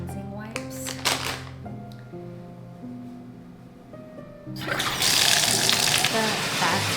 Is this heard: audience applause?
no